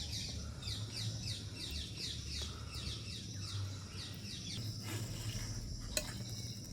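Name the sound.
egg poured onto dosa, frying on the pan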